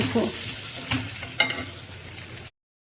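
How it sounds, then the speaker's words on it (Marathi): Stuffed brinjals (eggplants) frying in hot oil, a steady low sizzle with a few brief scraping clinks, ending abruptly into silence. "सर्व वांगे तेलात टाकून घेतलेले आहेत। त्यांना व्यवस्थित असं फ्राय होऊ द्यायचे थोडा वेळ"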